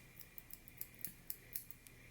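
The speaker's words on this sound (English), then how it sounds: "you can grab your scissors and just put tiny snips." Scissors make tiny snips into fabric while sewing a McCall's 7330 jumpsuit, a quiet, crisp series of about eight sharp cuts in a steady rhythm, close and alone.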